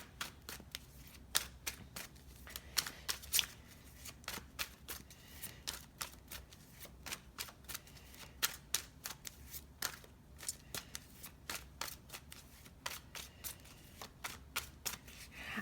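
A deck of tarot cards shuffled by hand, close and soft, with repeated quick riffling bursts and slaps in an irregular rhythm over a quiet room, no talking.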